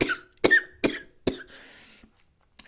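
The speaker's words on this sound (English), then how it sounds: "now I gotta go because I have to cough" A person coughs four times in quick, uneven bursts, close and loud, followed by a short raspy breath and near silence.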